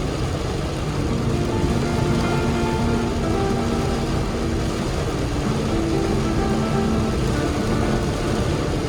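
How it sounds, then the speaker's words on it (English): Heavy, continuous rain drumming on a surface, loud and steady, with a faint bus engine hum underneath. "Did the bus pull over because of the rain?"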